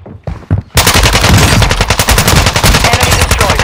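Automatic gunfire from the Call of Duty video game breaks out after a brief, quieter opening and then hammers on in a loud, rapid, unbroken burst of shots.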